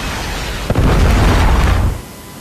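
A Predator missile strike in a military shooter video game lands as one loud, deep explosion with a sharp onset, then a rumbling roar that holds for over a second and fades.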